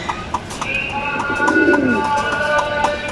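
Pigeons cooing close by in a loft, a low rolling coo standing out over a busy background of other birds and faint clatter, with no talk.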